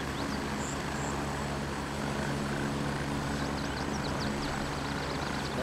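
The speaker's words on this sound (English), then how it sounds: "That chopper's landing now" A helicopter lands in a video game match set in Ban Pa, giving a steady, continuous rotor and engine drone at an even level with faint higher chirps over it.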